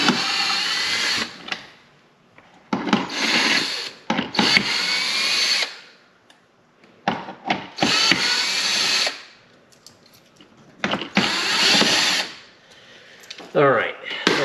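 A power driver whirs in short bursts, pausing between each, as four 7 mm screws come out of the brake light on a C7 Corvette, with someone talking in the gaps between the tool runs.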